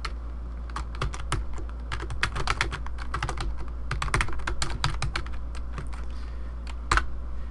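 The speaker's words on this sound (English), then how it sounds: "Click and then begin typing." Rapid, uneven keystrokes clatter on a computer keyboard, close and steady, with occasional louder key hits and no talking.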